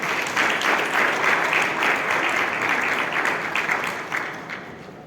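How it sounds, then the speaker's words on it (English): Audience applause at a memorial lecture, a dense, even wash of many people clapping from across the room, holding steady before tapering off near the end. "Round of applause for Nani."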